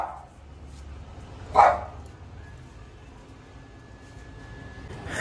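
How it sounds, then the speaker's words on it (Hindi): A small dog gives a single sharp bark partway through, fairly close, against an otherwise quiet background with a faint steady hum. "इतना सा कुत्ता है बहन, और ब्रूजो को भौंकने लग जाता है"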